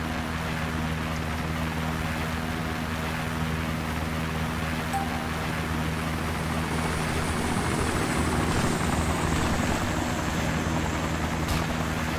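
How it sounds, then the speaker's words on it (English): Ka-50 Russian helicopter in the video game Arma 2, a steady, loud rotor and turbine drone with strong low hum throughout, constant in level and uninterrupted by speech. "I am in a KA-50, it's a Russian helicopter."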